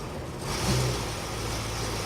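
A Ford Lincoln car with an AOD transmission idles in park, a steady low engine hum holding evenly from start to finish with no revving.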